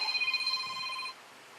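A mobile phone ringtone chirps in a quick repeating electronic pattern for about a second, then cuts off, leaving quiet room tone, near and moderately loud.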